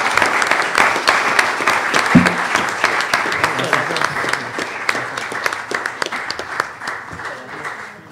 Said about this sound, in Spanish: Un aplauso para el doctor Ricardo Cerda Flores